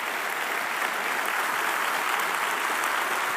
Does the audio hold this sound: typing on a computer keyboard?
no